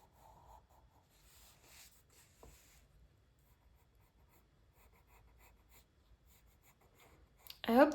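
A coloured pencil in light green sketches on sketchbook paper, a quiet close scratching in short strokes and pauses, followed by a louder rustle at the very end.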